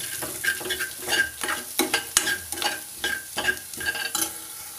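Vegetable roll filling is stirred and mixed in a hot pan, giving rhythmic, close scraping strokes over a light sizzle, with no talking.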